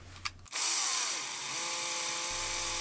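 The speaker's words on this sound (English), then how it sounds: "this wanted to bite on the plastic and try and take the whole head around with the drill bit" A power drill bores into the plastic head of a 1978 Kenner Star Wars Greedo toy, starting abruptly with a loud, steady high whine that runs for about two seconds and then stops.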